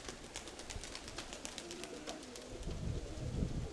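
Pigeons coo softly on the ground outdoors while a bird of prey circles overhead, the calls faint and repeated amid low background rumble, with no voices.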